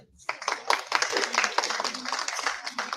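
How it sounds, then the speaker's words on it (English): A small audience at a wellbeing lecture claps together in a brief, lively burst of hand claps lasting a few seconds, with some voices mixed in. "So clap for yourself."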